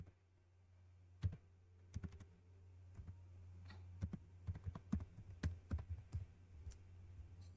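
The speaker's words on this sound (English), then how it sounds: "just go ahead and type what you want" Text being typed on a computer keyboard while designing an online-learning poster: irregular bursts of crisp, close key clicks over a constant low electrical hum, with no voices.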